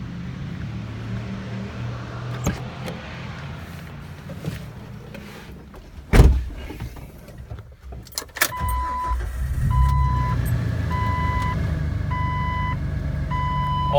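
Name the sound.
2006 Jeep Wrangler LJ starting off on a test drive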